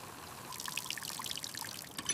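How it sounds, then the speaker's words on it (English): Water pours steadily to fill a pool, a close, continuous splashing trickle with bright gurgling bursts, heard alone without any voices. "I can fill the pool while we wait."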